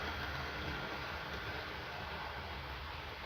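A model railway locomotive runs slowly, a soft continuous mechanical hum and faint rolling rumble that stays even and fairly quiet throughout with no voices.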